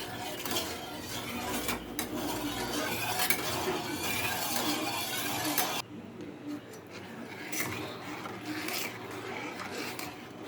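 Wheat almond halwa being stirred in a pan as oil is added, a steady scraping and stirring with light clinks of utensil on metal and a faint sizzle, fairly close throughout.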